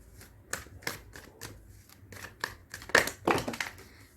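Tarot cards are shuffled close by in a quiet room, with a run of quick papery riffs and soft slaps as some cards slip out, the sounds growing denser and louder toward the end.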